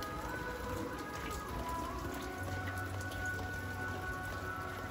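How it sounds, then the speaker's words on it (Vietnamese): Rain in a highland village in the days before Tet, a steady close hiss of drops on surfaces with a continuous even patter and no voices. "Trời tiếp tục mưa đó mọi người nhé."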